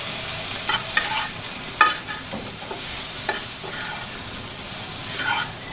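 Cumin paste and ginger paste fry in hot oil in a pan, giving a steady loud sizzle broken by several scraping stirs of a spoon, with no speech.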